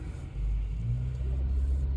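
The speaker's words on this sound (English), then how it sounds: "There goes the bus." A bus rumbles past at close range in a White Plains street, its deep engine drone swelling and holding steady for a couple of seconds with no talk over it.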